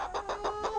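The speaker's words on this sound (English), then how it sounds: "Henrietta, this is a sweet chicken." A hen clucks in a backyard coop, giving a steady run of five or six soft, rhythmic clucks close by with no talking over them.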